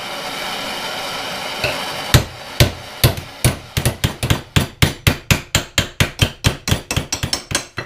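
Red-hot steel is hammered into place on a scrap-built motorcycle luggage rack for a Honda CB450. Loud, ringing hammer blows start sparsely over a background hum, then come fast and rhythmic, more than twenty strikes in a row.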